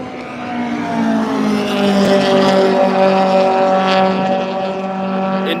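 A modified Ford race car engine howls loudly at Spa, its induction sound dominating over the exhaust, a sustained high-revving note with shifting harmonic tones as it passes close by.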